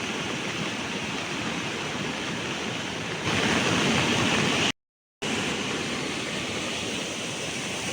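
Steady, broad roar of the flooded Kajali river rushing, loud and continuous, swelling slightly midway with a brief dropout near the end; no voices.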